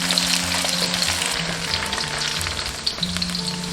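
Pork belly stir-fried with scallion, ginger and soaked shiitake sizzles steadily in hot oil in a wok, a dense continuous crackle with faint tool scrapes and stirring underneath, no voices.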